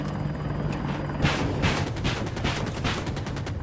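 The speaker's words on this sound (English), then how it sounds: "Stealth chopper. Enemy chopper. Helicopter spotted!" Helicopter rotor in the video game Battlefield 2042, a steady loud whir with rapid gunfire bursts layered over it in the thick of combat.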